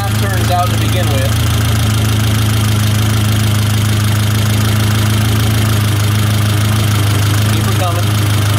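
A 1972 Toyota Celica engine idles steadily while its carburetor mixture screw is backed out, a loud continuous low rumble throughout with a faint voice briefly underneath.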